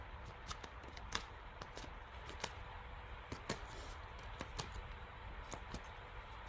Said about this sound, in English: why do I shuffle the cards the way I do?